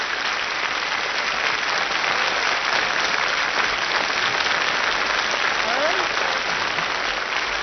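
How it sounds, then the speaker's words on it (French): A television studio audience applauds a singer's first public performance, sustained loud clapping throughout with faint voices mixed in underneath. "Alors il faut l'applaudir très fort."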